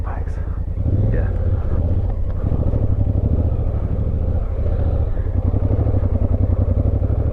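Adventure motorcycles ride Oregon back-country roads, their engines droning loud, steady and close with a throbbing rhythm. Riders talk over the motor noise.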